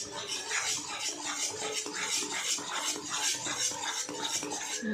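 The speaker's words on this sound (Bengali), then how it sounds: "যতক্ষণ না কড়া থেকে ছেড়ে দিচ্ছে ততক্ষণ নাড়তে থাকবো" A spoon scrapes and stirs thick milk kheer in a wok in quick, repeated strokes, with close metallic scraping and clinks that continue steadily throughout.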